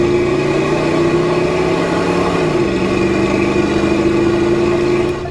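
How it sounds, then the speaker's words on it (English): A 1979 Oldsmobile W30 with its original 350 engine and automatic transmission pulls hard, a loud steady drone climbing in pitch before dipping at a shift midway and continuing on, heard close up without talk. "we're going to roll into the throttle here a little bit"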